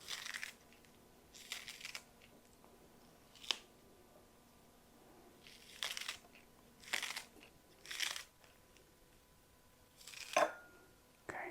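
Kitchen scissors snip green onions for a garnish in a quiet room, a series of short, crisp cuts spaced irregularly, some single and some in quick pairs.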